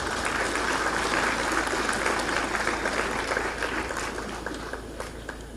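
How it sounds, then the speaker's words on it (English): Sustained, dense applause from a graduation convocation audience of graduates and parents, loud and steady throughout before easing slightly toward the end, with a faint voice underneath. "Let's give each one of you one more round of applause."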